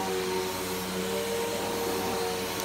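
A Bissell Powerforce Helix Turbo vacuum cleaner runs with a steady, loud whirring roar and a faint whine, smoking and giving off a burnt-rubber smell. The drone holds constant throughout with no talk.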